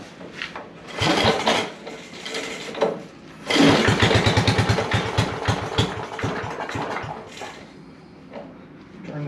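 A 55-year-old snowblower engine is cranked with a couple of rough bursts, then sputters into an uneven, chugging run that fades off near the end.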